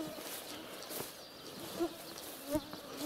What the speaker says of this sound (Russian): Комаров нынче много.